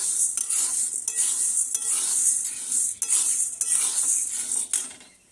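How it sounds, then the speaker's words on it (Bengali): Lentils dry roasting in a metal kadai, a close, steady rustling scrape as a spoon stirs the grains against the pan, in repeated strokes with brief breaks and no talk. "তো ডালটা এইভাবে কড়াই একটু ভেজে নেব।"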